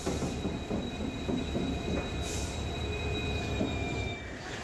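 The Howrah–SMVT Bengaluru Duronto Express, train 12245, rumbles along steadily with continuous wheel noise and a thin high squeal from the rails, loud and close throughout.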